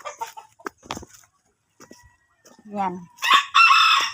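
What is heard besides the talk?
rooster clucking and crowing near chicken coop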